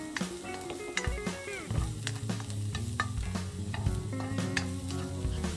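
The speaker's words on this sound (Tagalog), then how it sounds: "Magpainit na ng mantika at simulan na mabangong paggisa ng bawang" Garlic sautéing in hot oil for a chicken and pechay soup, a busy close sizzle with stirring clatter and spoon scrapes that runs steadily under background music.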